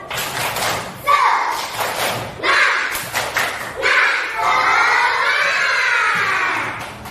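A classroom of kindergarten children perform a rhythmic spirit clap, bursts of patterned clapping and shouted chants in unison, loud and close, with thumping beats and children's voices throughout.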